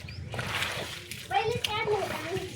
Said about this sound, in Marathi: पाणी टाकत सगळं स्लॅब धुवून काढायचं आपल्याला